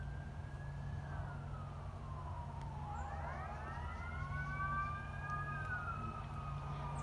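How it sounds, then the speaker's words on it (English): Wailing sirens rise and fall in the distance over a steady low rumble of traffic, with two overlapping tones sweeping up and down. "Of course, you got some sirens going on in the background"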